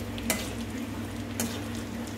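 Bread pieces frying in a pan for bread halwa, a steady soft sizzle with two brief louder stirring scrapes, close and alone without talk.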